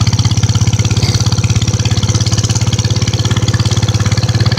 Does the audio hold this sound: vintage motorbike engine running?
yes